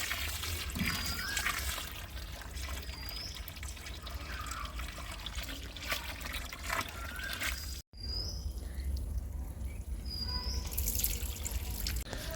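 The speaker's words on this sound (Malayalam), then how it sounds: "നമ്മുടെ പ്ലാന്റിനെ നമുക്ക് നന്നായിട്ടൊന്ന് നനച്ചു കൊടുക്കാം" Water pours steadily around the base of a newly planted climbing rose, a continuous splashing wash with a few faint bird calls in the background.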